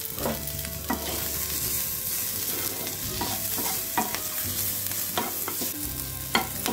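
Sliced onions and two green chilies fry in hot oil in a pan, with steady sizzling under repeated scraping stirs of a spatula, close and continuous with no talking.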